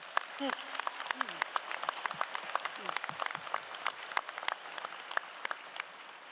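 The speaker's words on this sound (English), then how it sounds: "give a round of applause for Taylor" At a university convocation ceremony, the crowd applauds a graduate with scattered, crackling clapping from many hands, moderately loud, while a voice speaks briefly underneath.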